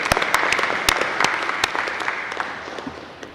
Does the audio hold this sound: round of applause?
yes